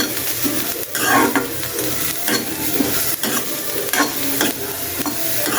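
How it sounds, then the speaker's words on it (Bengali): Onions fry for a mashed bharta in a pan where green chillies and garlic were fried first, giving a constant close sizzle broken by rhythmic scraping stirs, with no voices. "এদিক দিয়ে পেঁয়াজ ভাজতেছি"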